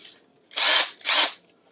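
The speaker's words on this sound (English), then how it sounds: "now I'm going to drill a little pilot hole in here" Two short whirring bursts of a drill driver with a very small bit boring a pilot hole in a 3D-printed part, close and loud, each lasting about a third of a second with a brief pause between.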